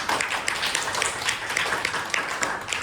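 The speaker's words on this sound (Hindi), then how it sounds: "तो इनके लिए एक बार तालियां बजाते हैं।" Audience applause for a guest at an Engineers Day celebration, steady dense clapping from a gathered crowd lasting throughout, moderately loud with no pauses.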